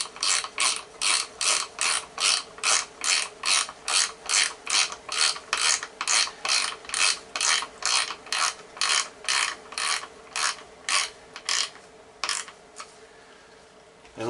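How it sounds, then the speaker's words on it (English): A socket ratchet tightens a part on a Lee Loadmaster case feed with a long run of evenly spaced, crisp clicking strokes, close and clear, slowing slightly and stopping near the end. "Just ratchet that down on it."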